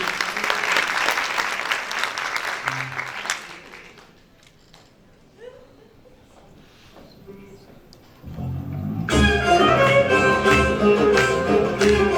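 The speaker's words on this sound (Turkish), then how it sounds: "Alkışlarınız Ulu Kışla için" Audience applause for a choir at a Turkish folk song concert, a dense burst of clapping that fades into a quieter stretch before music and performers start up loudly.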